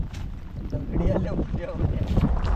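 Strong monsoon wind blowing at Gorai creek in Mumbai during heavy rain, a loud continuous rushing roar buffeting the microphone, with a person speaking over it.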